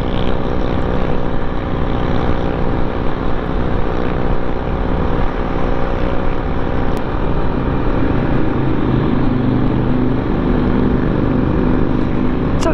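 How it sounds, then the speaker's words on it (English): Motorcycles at the Brighton Burn Up bike event make a loud, continuous, close engine drone while riding at a steady pace, with no talking. "we get to see all the bikes as they ride past us"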